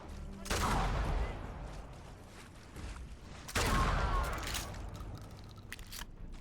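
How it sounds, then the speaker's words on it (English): Gunfire at a turret in the video game Fallout 4, two loud bursts of rapid shots, each fading into scattered trailing pops and clatter. "I think they're shooting the turret"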